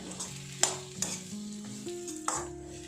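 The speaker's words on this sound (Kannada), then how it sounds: "ಹೀಗೆ ಎಲ್ಲವನ್ನು ತುಪ್ಪದ ಹೀಗೆ ಫ್ರೈ ಮಾಡ್ತಾ ಹೋಗೋಣ" Chopped dry fruits and raisins frying in ghee, a soft sizzle with a few distinct clicks and taps of a spoon stirring against the pan, close and quiet, no voices.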